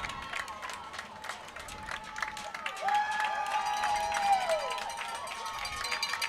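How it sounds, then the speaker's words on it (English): Fans in the stands at a 5A state semifinal high school soccer match cheer and shout, a broad crowd roar building midway with a sustained whistle-like tone and scattered claps, heard at a distance. "They're cheering about this and trying to get their team to pick them up"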